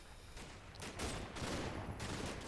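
Gunfire from a Jeep in the Combat Mission tactical war game, a rapid burst of shots rolling into a dense fusillade that carries on across the whole moment, fairly distant and faint.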